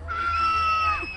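Children scream together at a racing pig show at a county fair, a brief, loud, sustained high-pitched shriek from a crowd close by.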